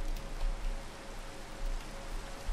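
Rain falls in the Minecraft video game as a steady, even hiss of pattering drops, continuous and moderately loud throughout, with no speech.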